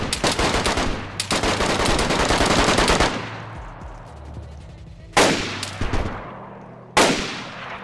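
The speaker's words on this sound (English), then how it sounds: "There's another guy behind me shooting at me from another." Automatic gunfire in the DayZ video game: long sustained bursts of rapid shots, then two shorter sharp volleys after pauses, loud and close with no talk.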